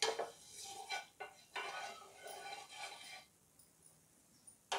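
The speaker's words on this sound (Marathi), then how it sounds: "आपण हे छान सर्व बाजूंनी लावून घ्यायचं आहे।" Oil is spread across a nonstick tawa with a utensil before rice-flour uttappa batter goes in, making soft scraping and clinking strokes in bursts, then a quiet pause.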